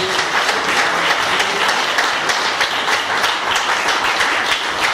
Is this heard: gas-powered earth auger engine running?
no